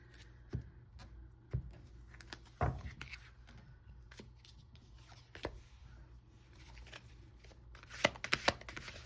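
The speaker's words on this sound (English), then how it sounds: "I'll go ahead and cut the deck." A tarot card deck is cut and shuffled, giving quiet scattered taps and soft card flicks over a low steady hum, with a denser burst of riffling near the end.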